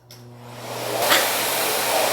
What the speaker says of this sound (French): Donc là, je me réjouis de passer l'aspirateur